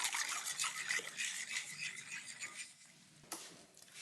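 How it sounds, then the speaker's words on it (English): Flavored gelatin goes into a milk mixture for a blue tres leches dessert, producing a close, steady rasping and scraping, as of a utensil stirring against a bowl, that fades slightly near the end with one sharper scrape. "now I'm just adding the flavored gelatin to the mixture"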